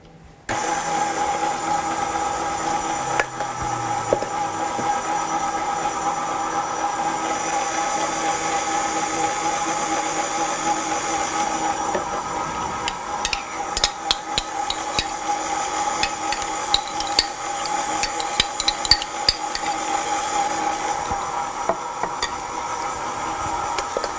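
An electric mixer whirs steadily through vanilla cake batter, a continuous close hum with faint ticking and clatter over roughly twenty-four seconds, and no voices.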